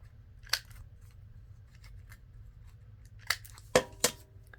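Scissors rounding the corners of a paper journal page, giving a few short, sharp snips spaced apart over a quiet background hum, with the last three cuts close together and fairly near.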